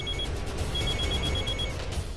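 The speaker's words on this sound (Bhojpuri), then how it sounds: "अगर हम इनका फोन उठाई नहीं तो बार बार फोन करे लगी हैं" Telephone ringing in a domestic scene, a repeating electronic ring tone heard at moderate distance, steady and alone without speech.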